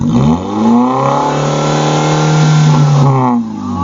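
A 2018 Daihatsu Sigra manual car engine revs hard and holds a loud, raspy exhaust roar, rising then settling before dropping off near the end.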